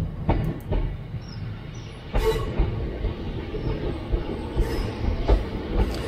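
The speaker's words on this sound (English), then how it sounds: "Great Western Railway Class 150 two-car diesel multiple units serve this route normally." A Great Western Railway Class 150 two-car diesel multiple unit arrives, a loud rumbling train with clattering wheel knocks on the rails and brief metallic squeals, heard close by.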